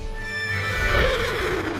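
A horse neighs in a storybook sound effect, one loud, close whinny that rises and trails off over about two seconds, heard alone without talk.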